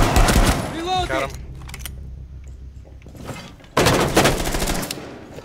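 Gunfire in Rainbow Six Siege during a house team deathmatch, with sharp bursts of rapid shots at the start and again near the end and mechanical clatter between, mixed with someone talking.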